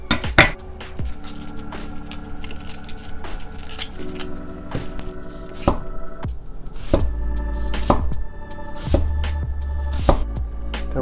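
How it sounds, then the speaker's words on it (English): A knife slices an onion into half-moon pieces on a cutting board, each firm chop landing as a crisp, close knock in an uneven rhythm, with faint rustles between strokes and no speech. "Start with an onion, and my favorite way to cut is just natural half moon shapes"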